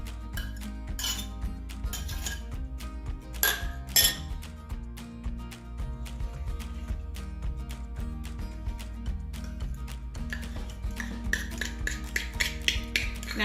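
Protein energy-bite ingredients being mixed in a bowl with a wooden spoon, producing a continuous run of close, rhythmic clinks and knocks, with a few sharper taps scattered throughout.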